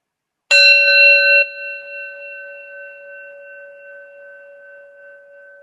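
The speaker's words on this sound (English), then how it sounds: "I'm going to sound the gong once." A single gong strike lands sharply near the start, then its clear metallic tone rings on and fades slowly through several seconds of otherwise quiet surroundings.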